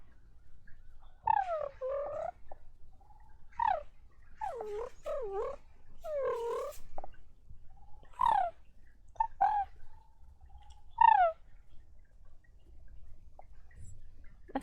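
A human voice imitates bird chirping from the throat, producing a series of separate rising and falling whistled chirps and short warbles with pauses between them, fairly close and clear against a quiet background.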